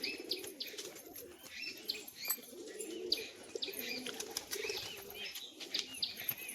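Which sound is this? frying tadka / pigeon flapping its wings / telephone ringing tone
pigeon flapping its wings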